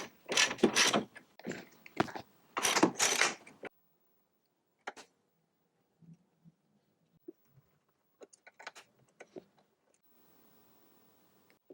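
Loosening the kingpins and shifting the caster and camber adjusters on a Tony Kart front end makes two loud bursts of ratchet clicking up close, then scattered faint clicks and taps with quiet gaps.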